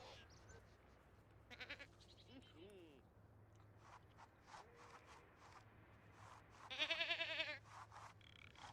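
A goat bleats in The Sims 4 Stone Age game, a couple of short wavering cries standing out over a low steady game hum and light background movement, the loudest call near the end.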